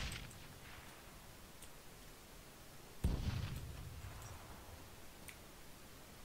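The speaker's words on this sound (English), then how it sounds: "So many explosions" Muffled explosions boom in the distance, one sharper blast standing out midway, with scattered clicks and a low rumbling background.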